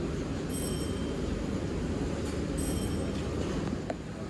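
Commuter trains at Manggarai station give a steady low rumble of rolling carriages, with brief high wheel squeals cutting in now and then at moderate distance.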